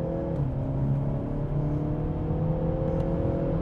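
A Peugeot 508 PSE hybrid with four-wheel drive pulls on a rain-soaked race track, engine drone rising steadily in pitch from inside the cabin, continuous and moderately loud.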